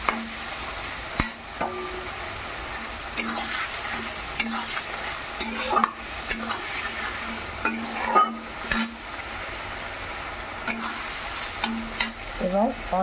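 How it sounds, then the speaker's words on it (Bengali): Spice paste frying in a pan while being stirred for a Bengali chhanar kofta curry, with steady sizzling and repeated scraping strokes of a spoon or spatula, close and continuous, no talking. "মশলাটাকে এবার ভালো করে কষিয়ে নেব।"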